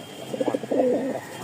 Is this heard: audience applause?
no